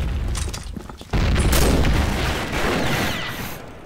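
Grenade blast in a first-person shooter game, a sudden loud booming burst that sustains with rumbling debris for a few seconds after quieter gameplay noise.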